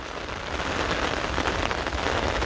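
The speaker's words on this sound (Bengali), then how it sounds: "বৃষ্টি আর ভাল লাগে না সারা বছরই বৃষ্টি হইলো" Heavy rain falls in a dense, unbroken hiss and patter on surfaces all around, loud and steady throughout with no voices.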